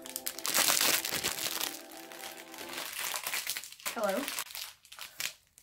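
Crinkling and crushing of material as an ASMR trigger, loud close bursts of crackle at the start that fade into lighter rustling, with people talking and laughing over it.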